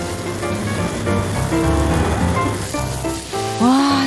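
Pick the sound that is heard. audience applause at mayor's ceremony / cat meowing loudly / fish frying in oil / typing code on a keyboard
fish frying in oil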